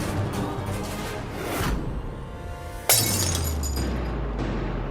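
Glass shatters suddenly in a domestic TV drama scene, a sharp loud crash followed by a low dramatic tone over the lingering background.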